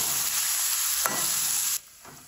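Vegetables stir-frying in oil give a loud, dense sizzle with a brief scrape partway through, then drop abruptly to a much quieter hiss near the end.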